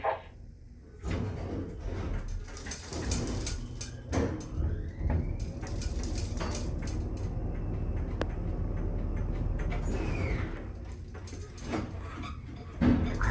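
Motor of a manually controlled Watson traction elevator in Brooklyn runs under a cluster of mechanical clunks, ratcheting clicks and door-like slides, with a steady low hum and a rising whine near the middle, no talking.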